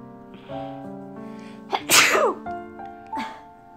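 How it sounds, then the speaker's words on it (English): A single loud human sneeze bursts out midway during cosplay sewing work, preceded by a sharp intake of breath and trailed by brief vocal sounds. "That sneeze made me lose track of what we're doing."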